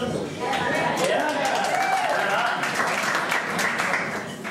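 Audience at a jazz quartet concert breaking into sustained applause, steady and fairly loud throughout, with crowd chatter and a voice mixed in.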